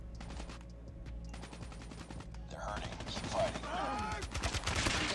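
Rapid gunfire bursts and single shots from a DR-H rifle in Call of Duty Mobile, rattling steadily against game ambience and footsteps, growing denser toward the end.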